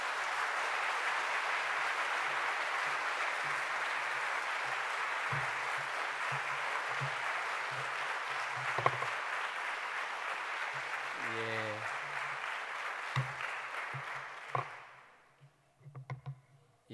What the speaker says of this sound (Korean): 자, 마지막 끝까지 힘내시라고 큰 박수로 모시도록 하겠습니다.